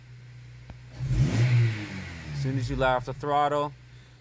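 A car engine revs up in a quick swell and drops back as the throttle is released, heard moderately near while a person talks over the end.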